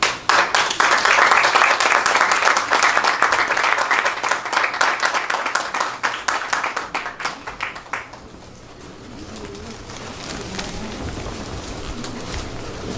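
Applause at a Korean seminary graduation and degree ceremony in New York, a dense roomful of clapping that starts strong and holds for several seconds, then thins to scattered claps and fades into quiet room noise.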